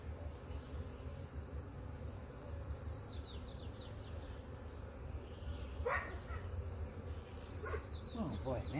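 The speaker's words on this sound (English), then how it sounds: "Oh boy, man alive, these bees are not happy." Agitated honeybees buzz steadily around an opened hive during a split inspection, a dense close hum running under the whole stretch, with a few brief higher sounds over it.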